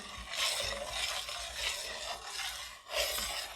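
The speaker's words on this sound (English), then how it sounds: "We're going to give it a stir." Baklava syrup being stirred in a pot after vanilla and lemon juice go in, a steady scraping, rubbing swirl that rises and falls over several strokes, close and alone.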